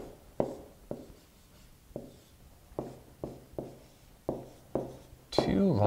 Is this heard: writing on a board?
yes